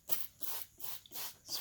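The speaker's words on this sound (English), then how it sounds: "I'm going to take my spray bottle, which has water in it, and spray these down" A spray bottle of water misting down plants in four quick, even bursts, each a short close hiss separated by brief pauses, with no talking.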